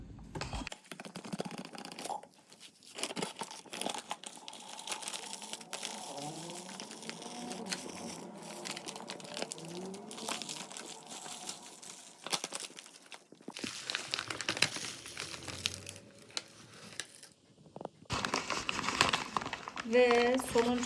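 Bagged vitamin-enriched chicken feed is tipped out, giving a steady crinkling, rustling pour of dry grains and crackling paper packaging across the whole stretch, with brief pauses and talk over it.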